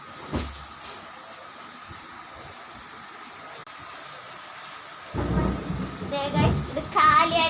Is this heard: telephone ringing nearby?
no